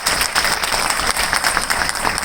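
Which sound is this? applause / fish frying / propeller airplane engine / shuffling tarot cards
applause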